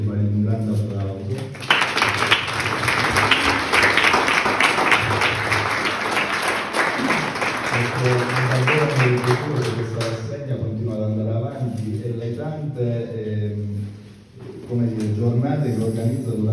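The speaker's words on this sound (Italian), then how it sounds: "vi prego di fare un grande applauso" Audience applause at a contemporary art exhibition event, a burst of clapping from the crowd that swells and holds for several seconds, with a speaker's voice carrying over it and continuing as the clapping fades.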